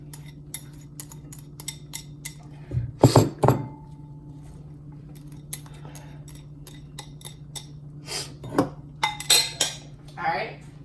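Vegetables tossed into a cast iron pan for meatloaf, with a cluster of loud metallic clatters and clinks near the start, scattered clicks, and a second burst of clanking toward the end over a low hum.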